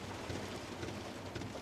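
Rain falling on a parked van at night in a busy town-centre council car park, a faint, steady patter and hiss heard from inside, with no voices.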